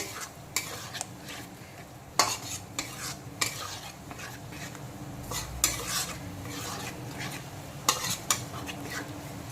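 Sour yogurt being stirred into onion paste with a spoon in a pot or pan, repeated scraping and clinking strokes in an irregular rhythm over a faint sizzle, close and fairly quiet with no talk.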